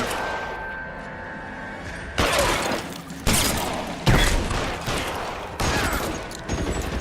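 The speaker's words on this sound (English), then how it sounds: "I'm hearing machine gun shots over there, but I don't see where it's coming from." Machine gun fire in the video game L.A. Noire comes in repeated loud bursts after a quieter opening, each volley crackling for about a second with short gaps between.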